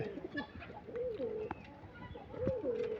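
Pigeons kept by a pigeon fancier cooing nearby, several soft rolling coos rising and falling over a quiet background, no talk.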